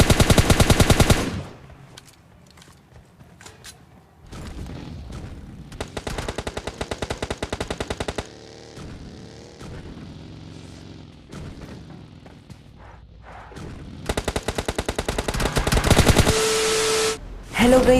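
Rapid automatic gunfire from the mobile game PUBG Mobile Lite, loud bursts of machine-gun shots in several long volleys separated by quieter stretches of game ambience and a few scattered single shots.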